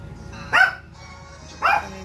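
Two sharp dog barks about a second apart, close and loud, over a quiet low hum with no talking.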